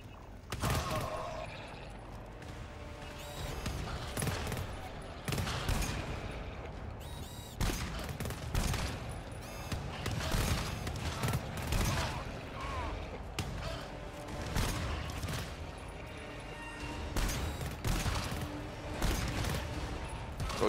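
Gunfire rattles without pause in the co-op shooter game GTFO: dense, overlapping bursts of automatic fire and impacts, loud and close, with a player's voice heard talking underneath now and then.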